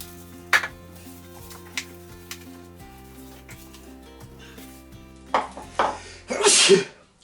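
A sharp sneeze bursts out near the end, after a few soft clicks and kitchen clatter while seasoning a chicken, over a quiet musical background.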